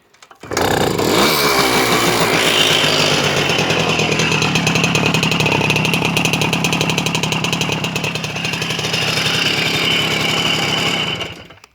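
A small two-stroke moped engine roars loudly and steadily, revving hard with a buzzing rattle for several seconds before cutting off.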